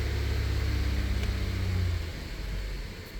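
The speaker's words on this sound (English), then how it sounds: "Turn headlights to off position and idle engine." A car engine idles steadily with a low, constant hum during a battery and alternator test, the rumble dipping slightly toward the end.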